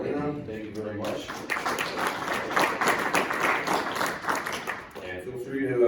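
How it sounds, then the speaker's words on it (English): Audience at a lecture on dairy farm profitability bursting into applause, a sustained wash of many hands clapping for several seconds, with a voice speaking just before it begins and again as it dies away. "let's please give a round of applause to Eric and to Elena"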